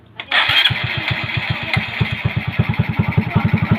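A Honda MSX motorcycle engine, converted from fuel injection to a carburetor, cranks and catches, then settles into a loud, close, rapid putter with a steady rhythmic thump; no talking.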